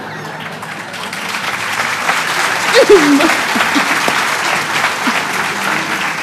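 Studio audience applauding at a Turkish televised debate show, a sustained crowd of clapping hands with a brief voice rising in the middle.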